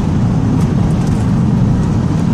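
A Smart ED electric car accelerating along a narrow, steep country road, heard as a close, steady low rumble of tire and road noise with a faint whine on top.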